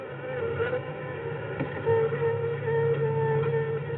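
Wasps buzz in a 1959 film scene, a steady, droning hum that holds throughout at moderate loudness with slight wavering and no talk.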